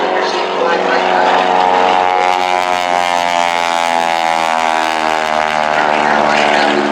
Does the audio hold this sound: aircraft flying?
yes